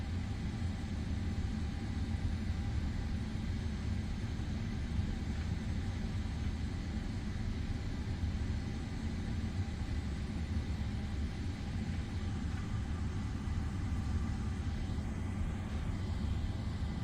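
A Lufthansa 747 rolling for takeoff on runway 30 in Microsoft Flight Simulator 2024, a steady, low, distant jet engine rumble and roar holding evenly throughout with no talk.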